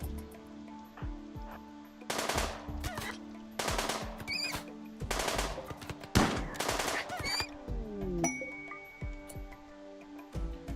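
Gunfire in the video game Rimworld arrives as several sharp, loud bursts of rapid shots separated by short gaps, over a faint steady tonal background.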